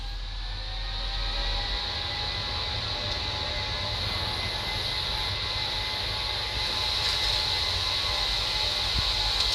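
Simulated Boeing 737 jet engines in X-Plane 10 Mobile spool up to takeoff thrust, a steady loud roar with a high whine that holds level and builds slightly toward the end, with no talk over it.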